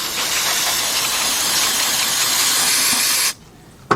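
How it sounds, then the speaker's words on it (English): Carburetor cleaner sprayed onto the carburetor of a Troy-Bilt push mower, a loud, close continuous aerosol hiss lasting about three seconds before stopping abruptly. "Got our carburetor cleaner."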